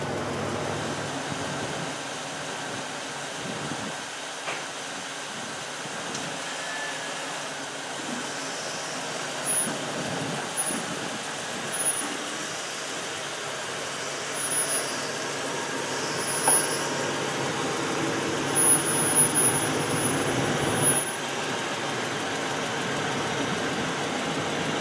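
A 2004 GMC Sierra 1500 pickup, just fitted with new brakes, rolls along a driveway with a steady low engine hum, occasional faint clunks and brief higher squeaks, and no talking.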